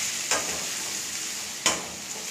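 Boiled potato pieces are stir-fried for a spicy curry, a steady bright sizzle in the pan broken by two sharp stirring scrapes, close and loud with no talk.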